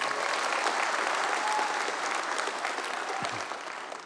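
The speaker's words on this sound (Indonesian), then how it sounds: "Bapak Letjen Purniawan Prabowo Subianto, boleh tepuk tangan yang meriah." A large crowd at an anniversary celebration of the PAN political party in Indonesia applauds loudly for a presidential candidate, with sustained dense clapping that begins to thin near the end.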